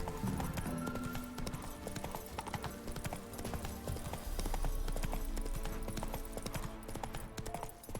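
Roach the horse's hooves clip-clop steadily at a trot in The Witcher 3, a close, continuous rhythm of hoofbeats over the game's background sounds.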